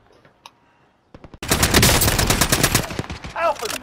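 Sniper rifle shots ring out in a multiplayer shooter game, a few sharp cracks early on, then a dense, loud stretch of rapid gunfire and impacts filling the rest.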